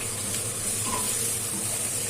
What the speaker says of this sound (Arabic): هنحط عليه ميه كده